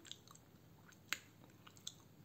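A crunchy, sour and spicy Pakistani snack is chewed close by, with soft, quiet munching broken by a few sharper crunching bites.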